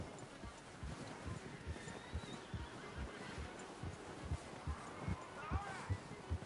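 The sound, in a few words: horse hooves and neigh, video game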